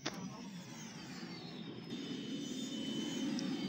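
Y-Wing starfighter squadron engines in a Star Wars video game, a steady roaring engine drone that swells slightly louder as the ships fly out, with a brief high whoosh near the start.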